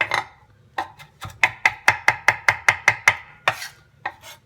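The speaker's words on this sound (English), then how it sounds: "just roll them together, stack them up, and they cut a lot easier. Just go back and forth a couple times" A knife chops through herbs that have been rolled and stacked together, giving about a dozen crisp, evenly spaced strikes in a quick steady rhythm, close and clear with no talking.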